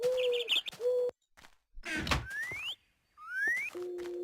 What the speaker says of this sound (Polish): nadzieję, że mnie nie zagłuszają te ptaki, bo strasznie tutaj buczą